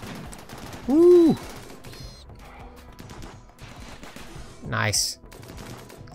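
Heavy charge blaster fire crackles in a modded Rimworld Alpha 17 battle, a short burst of energy shots near the end, with a man whooping and exclaiming over it.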